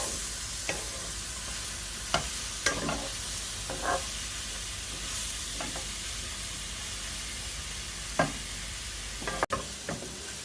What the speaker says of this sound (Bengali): মাশরুম, এটাকে কুক করে নিব এখন।